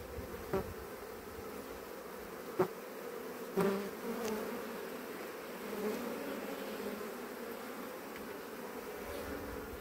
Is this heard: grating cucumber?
no